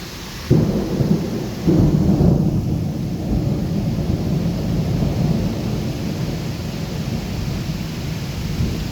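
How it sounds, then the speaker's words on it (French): A loud crack of thunder rolls out and rumbles again moments later, over steady heavy hail of 2-3 cm stones pattering nearby during a violent thunderstorm in Bordeaux. "Ouais, il grêle des billes, les amis."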